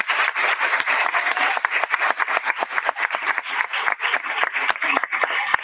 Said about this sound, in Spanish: voy a pedir un fuerte aplauso para la licenciada que nos acompaña hoy